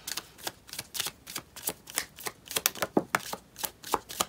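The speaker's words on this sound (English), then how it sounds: "I'm going to do one more shuffle here" Tarot cards are shuffled in quick, crisp riffling bursts, a steady rhythm of close, light flicks and slaps with no talking.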